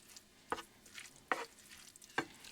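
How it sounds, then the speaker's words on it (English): A utensil stirring a mayo and mustard mixture in a bowl, three distinct scraping strokes at an even pace, close and quiet, with no talk. "Then mix it up."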